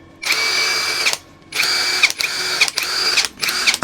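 An APR AP127+ impact wrench runs at full speed in several loud, steady whirring bursts with short pauses between them, close and without talk.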